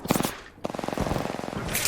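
Rapid automatic gunfire in a video game, a fast, evenly spaced string of close, loud shots after a brief lull, cut short by a sharp burst at the end.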